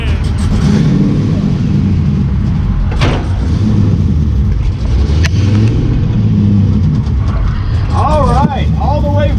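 A V8-swapped Nissan 240SX drifting in Texas, its engine a loud, constant rumbling roar that fills the scene, with voices talking over it.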